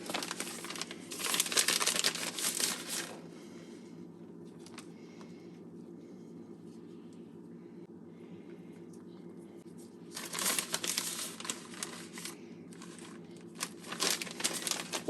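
Plastic bag of mozzarella cheese crinkling in two close bursts, one near the start and one later, with quiet stretches between and no talk.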